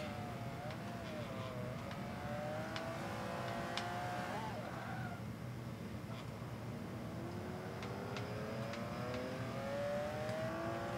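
A Ferrari GTO race car engine revs and shifts in the racing video game Forza 5, loud and continuous throughout, with rising and falling pitch as it accelerates and changes gear.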